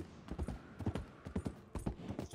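Hooves of a Strawberry Roan Ardennes draft horse in Red Dead Redemption 2 clip-clop in a steady, close, fairly loud trotting rhythm, with no talk over them.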